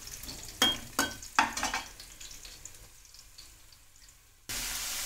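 Onions frying in oil and being stirred for bharta, three quick scraping stirs over a sizzle that fades to a quiet simmer, then a sudden steady hiss returns near the end, close and without talk.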